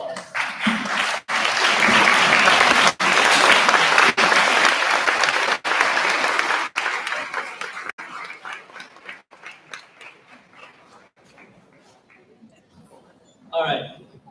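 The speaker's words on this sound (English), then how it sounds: "Let's stand up and give them a big round of applause." Graduation crowd gives a standing round of applause, loud dense clapping that holds for several seconds, then thins and fades to scattered claps, with a brief burst of voices near the end.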